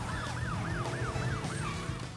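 A police car siren in the Crash Bandicoot Warped remastered video game wails in a fast, regular rising-and-falling pattern, about six cycles, over a low engine drone.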